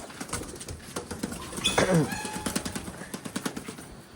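Pigeons kept at home are given water while soft cooing and fluttery bird calls rise near the middle. Sharp rhythmic taps and clicks repeat steadily under them at close range.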